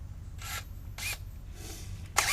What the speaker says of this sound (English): Try one of the smallest bits I've got in this drill set here.